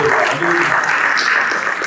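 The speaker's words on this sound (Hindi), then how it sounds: "इनके लिए तालियां हो जाए।" Audience clapping at a family get-together, a steady dense wash of applause held at even loudness from start to finish, with a faint voice briefly underneath.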